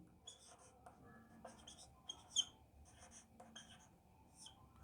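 Handwriting a quadratic polynomial, with faint, close scratchy strokes in short bursts and brief pauses between them.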